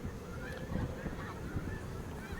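Snow geese honking at Freezeout Lake, Montana: a dense, continuous chorus of overlapping calls from a large flock, heard at a moderate distance with no talking.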